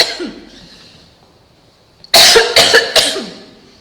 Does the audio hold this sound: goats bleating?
no